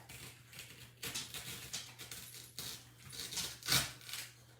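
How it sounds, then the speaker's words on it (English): A foam ball being cut in half, heard as a series of close, dry rasping cutting strokes in uneven bursts, with no talk. "I have one of these foam balls. I'm gonna cut it in half."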